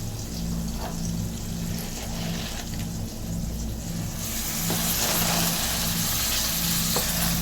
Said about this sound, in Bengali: তো এই যে শাকটা আমি নাড়াচাড়া করে কমিয়ে নিয়েছি।